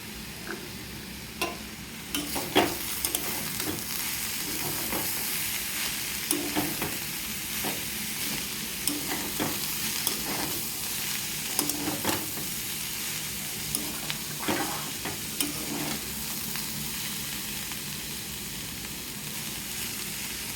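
Chopped banana stem sizzles in a pan, a steady, close hiss broken by irregular scraping and clinks as a spatula stirs it, with no voices.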